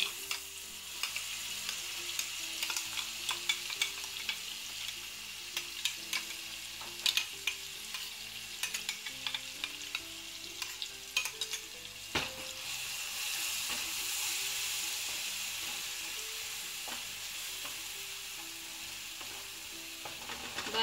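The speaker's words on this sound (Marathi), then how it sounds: "बारीक गॅसवरती आपल्याला हे वाटण तेल सुटेपर्यंत परतून घ्यायचं आहे।" A ground masala paste with turmeric and green chilli fries gently in oil over a low flame for a Maharashtrian mung amti. It gives a steady soft sizzle, broken by frequent close scraping and tapping of a stirring spoon.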